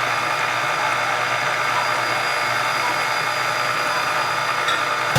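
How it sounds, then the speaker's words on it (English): An electric stand mixer runs at a steady, loud, unbroken whir from start to end, with no talking over it. "every now and then with these mixers, you've got to stop it"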